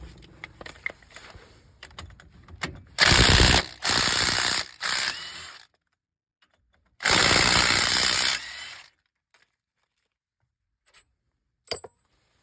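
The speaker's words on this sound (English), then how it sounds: "I'm going to see if my lovely little Ryobi impact gun will break them loose or not." A Ryobi impact gun breaks loose 18mm bolts on a 2012 Ford F150 wheel bearing, loud rattling hammering bursts in two main runs separated by quiet, with scattered clicks around them.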